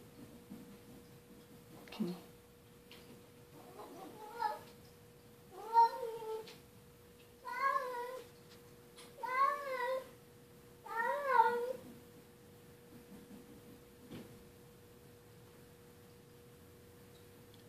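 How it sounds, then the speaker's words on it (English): Two indoor cats yowl and caterwaul in a string of rising, wavering cries, several loud howls bunched in the middle of the stretch amid household noise, a steady electrical hum running throughout. "I know you heard Buster's yowl as he was chased back into this room by Dharma."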